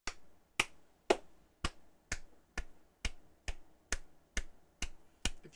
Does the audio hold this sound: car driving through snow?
no